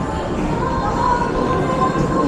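A steady rumble of an LRT light rail train under way in the Philippines, with low wheel and motor noise filling the space and faint crowd murmur.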